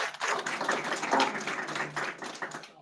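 At a research symposium panel, an audience gives a speaker a round of applause, a moderate burst of many hands clapping that swells and then tapers off over a few seconds.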